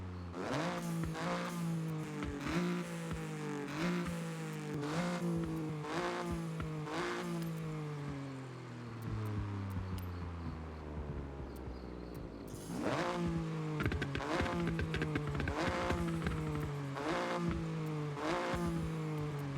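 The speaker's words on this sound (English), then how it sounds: "Factory turbo actually makes more of a hiss noise than what the race one does." A car engine in Forza Horizon revs hard in repeated rising bursts with gear shifts and a turbo whine, continuous and loud throughout.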